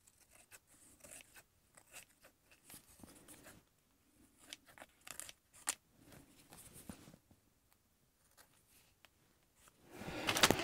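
A blade slicing through art-journal paper in quiet, scratchy bursts, soft and close, with a louder rustle of handled paper at the very end.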